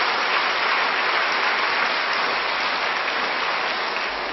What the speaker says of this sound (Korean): 우리 박수로 인천 온누리 화이팅 하면서 한번 축복하기를 원합니다